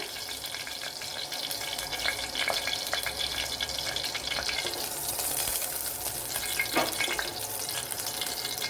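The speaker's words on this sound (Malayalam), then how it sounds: "ഇനി ഉലുവയൊന്ന് മൂത്ത് വരണം" Fenugreek seeds frying in coconut oil, giving a steady soft crackling sizzle throughout with a few brief clinks and scrapes, close and moderately loud, no voices.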